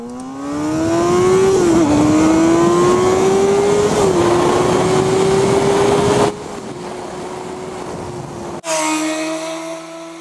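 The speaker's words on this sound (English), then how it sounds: "Here's a little 0 to 100 run that I did on my bike a couple of years ago." A 2008 Honda CBR600RR motorcycle screams through a 0 to 100 run, its engine pitch climbing steadily through the gears with brief dips at shifts, loud and close, ending in a sudden cut and a lower, steadier drone.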